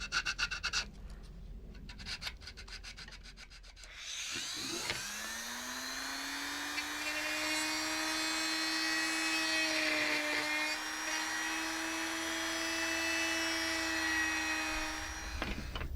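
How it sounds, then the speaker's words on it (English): A drill boring out a refurbished Entertech WH-88 water gun: a few seconds of rattling and scraping, then a loud, steady motor whine that holds a constant pitch to the end, with no talking. "I need to drill it out now"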